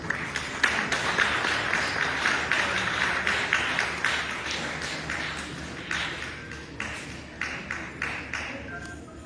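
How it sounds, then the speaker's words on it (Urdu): An audience applauds at length to welcome someone speaker at a Federal Education and Professional Training ministry event on special children. The dense clapping is steady, then thins into scattered claps toward the end. "اپنی تالیوں میں استقبال کیجیے محترمہ نازیہ ابرار خان"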